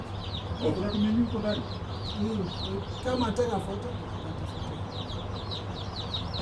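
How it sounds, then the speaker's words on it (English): Newly hatching chicks peep in a poultry hatcher, with high, repeated chirps running throughout over a steady machine hum, and a voice talking intermittently beneath them. "In the hatcher, so they are currently hatching, as you can hear."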